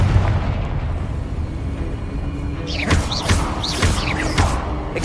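Confringo, a fiery blast spell in Hogwarts Legacy, goes off as loud booming explosions with thuds and crackling bursts over a rumbling battle backdrop, several impacts following one another.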